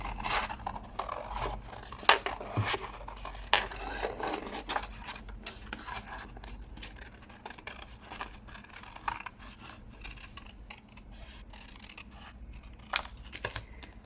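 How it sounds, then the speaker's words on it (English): Scissors roughly cutting out a paper image for a Christmas junk journal, giving a close, steady series of crisp snips and paper rustles with small scrapes in between, with no talking. "I'm just roughly giving it a cut like so."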